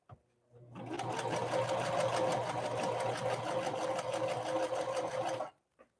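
A Singer 5808C sewing machine stitches a wide zigzag, a rapid, steady mechanical whir that runs for about five seconds close up, then stops abruptly.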